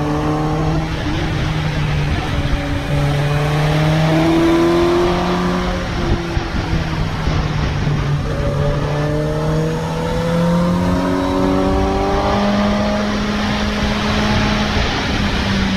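A Suzuki GSX-S 750 motorcycle is ridden hard up a hill. Its engine roars close and loud without a break, the pitch climbing and dropping as it revs through the gears, and no one speaks.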